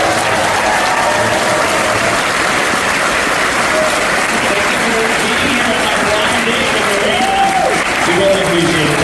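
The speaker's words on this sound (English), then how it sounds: "Can we have one more round of applause?" A loud, dense round of applause from an audience at an artist talk in New York, steady and continuous throughout with crowd noise mixed in.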